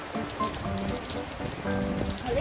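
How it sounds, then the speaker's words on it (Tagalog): Heavy rain pours down outdoors in Finland, a dense continuous hiss of drops striking surfaces, close and steady with no voices. "It's raining."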